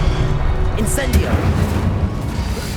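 A fiery Incendio spell bursts in Hogwarts Legacy with a loud booming whoosh amid combat noise, while a voice shouts over it.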